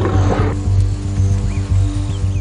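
Lions growling and roaring, loud and close, in deep rumbling pulses repeated several times over a continuous low drone.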